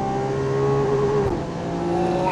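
A Lamborghini engine screams under hard acceleration, a loud, rising high-pitched wail that briefly dips at a gear change before climbing again, heard close up from inside the car.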